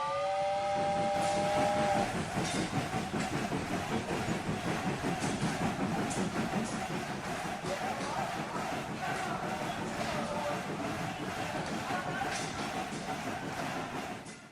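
Train sound effect from a Twitch Hype Train stream alert: a harmonic steam-whistle blast at the start, then a long rhythmic chugging of rail wheels that fades at the end, with speech faintly underneath.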